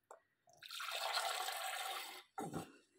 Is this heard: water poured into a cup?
yes